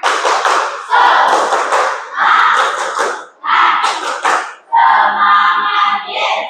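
A class of students chants together in short, loud bursts, with claps mixed into the rhythm, close by and filling the classroom.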